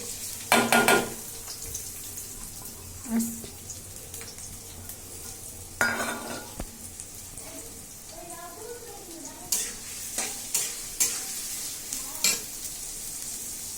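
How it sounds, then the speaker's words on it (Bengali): Onions frying in a pan for chicken biryani made with Pakistani cock chicken: a soft, steady sizzle broken by loud bursts of stirring and scraping, and occasional clinks of utensils against the pan. "তো এখন আমি পেঁয়াজটা ভাজা নিতেছি"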